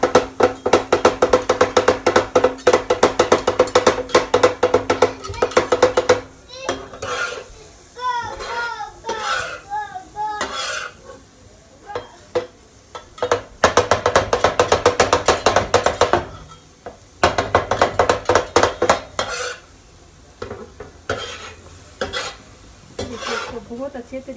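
A spatula scrapes rhythmically across a tawa, stirring tomatoes with keema in repeated bursts of loud metallic strokes over a steady sizzle, with pauses in between and someone speaking at times.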